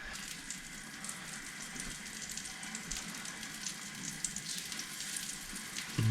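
Food coated in pepper, garlic powder, paprika and cayenne blackens in a hot pan on the stove, sending out a steady, fairly loud frying sizzle with crackling bursts throughout and no one talking.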